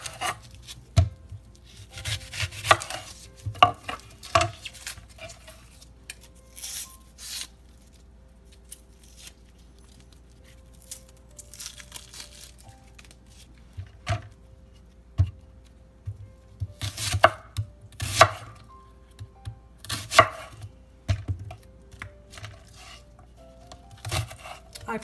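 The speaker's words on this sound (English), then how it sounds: "I'm going to chop up some onions. So I'm going to get this onion chopped." A kitchen knife chops onions on a cutting board in uneven clusters of quick, close taps with short pauses between rounds, fairly loud and with no talking.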